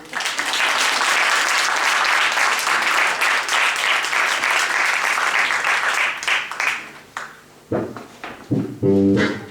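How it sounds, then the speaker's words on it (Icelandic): Audience at a cultural festival applauds performers on stage, sustained loud clapping for several seconds that gradually dies away, followed by some voices and a few musical tones near the end. "Gefið þeim gott klapp þessum herramönnum."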